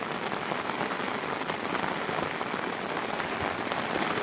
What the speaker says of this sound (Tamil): மழை நல்லா பிடிச்சி அடிக்குது.